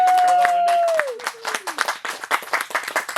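Audience applause at a speech, breaking out after about a second as a thick burst of clapping that grows more uneven and scattered, with voices mixed in.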